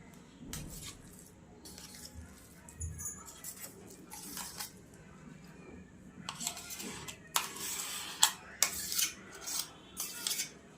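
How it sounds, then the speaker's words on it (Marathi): A metal spoon scrapes ground poha paste out of a mixer jar in a home kitchen, making repeated rasping scrapes and clinks. The strokes are quiet at first, then grow louder and quicker, and no one speaks. "याला आता काढून घेऊयात चमच्याने"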